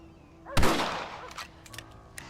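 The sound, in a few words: rifle shots being fired in the video game Red Dead Redemption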